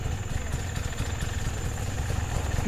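A motorcycle engine idles nearby with a steady low rumbling putter and a faint high whine over it, continuing evenly throughout.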